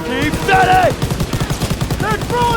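Rapid automatic gunfire from the World War II shooter Call of Duty: WW2, a steady rattle of close bursts running beneath excited voices talking over it throughout.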